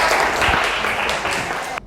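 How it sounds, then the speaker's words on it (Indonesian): Schoolchildren in a classroom clap for a classmate, a short, loud burst of close hand claps that fades slightly before cutting off abruptly. "tepuk tangan buat Aura Cesa"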